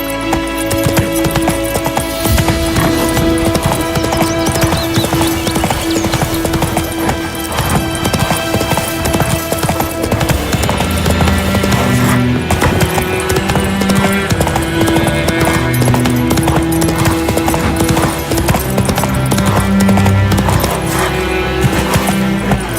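Roach the horse gallops in Witcher 3, a fast, steady clip-clop of hooves running continuously and loud over a dense layer of game music, with an occasional whinny.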